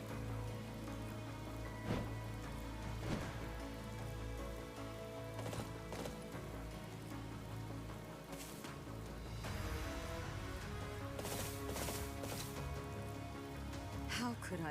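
Rain falls steadily as a dense, continuous hiss, blended with a busy wash of other background sounds throughout.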